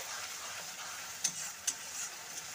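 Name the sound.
stirring tomato egg chutney cooking in a pan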